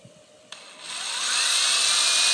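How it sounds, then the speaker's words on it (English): A power drill bores into wood while a flag is being hung, its motor whine rising sharply after a brief knock and holding loud and steady, with no talking. "we'll drill this in"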